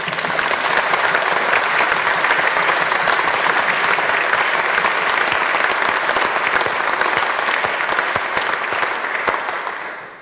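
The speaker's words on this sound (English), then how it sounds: "Can we give them a round of applause?" Sustained loud audience applause at a 2024 general election hustings in North Dorset, a dense, even roar of many hands clapping throughout before fading at the very end.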